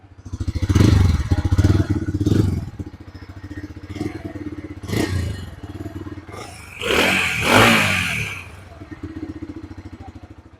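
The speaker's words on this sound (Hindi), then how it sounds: "अब मैं आपको दिखाता हूँ इसकी इंजन साउंड।" A Bajaj Freedom 125 CNG motorcycle engine idling and revving in uneven bursts, with clattering mechanical noise, close by and fairly loud.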